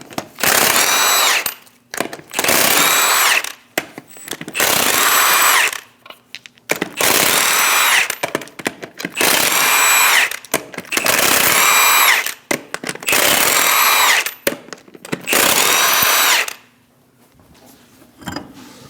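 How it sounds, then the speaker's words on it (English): A power tool with a 22mm socket spins off the eight lug nuts on a rear wheel of a Chevrolet Express 2500 van, giving loud, repeated whirring bursts, each about a second long, with short gaps before the tool goes quiet. "Using a 22mm socket, remove the 8 lug nuts."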